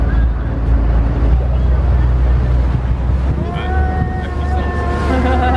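A motorboat engine drones and rises in pitch as it accelerates on open water, with wind buffeting the microphone throughout and the motor whine climbing steadily near the end.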